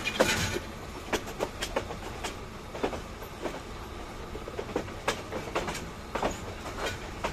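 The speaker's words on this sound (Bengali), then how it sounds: "তো আমি আজকে লালমনিরহাট রেলওয়ে স্টেশনে চলে আসলাম" A train at Lalmonirhat railway station rolls past with repeated clickety-clack wheel beats over a steady rumble, moderately loud and fairly close.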